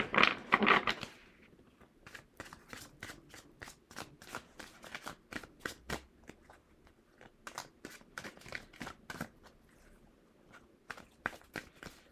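Quiet, irregular papery clicks and riffles of tarot cards being shuffled, a brief louder flurry at the start, then scattered soft snaps.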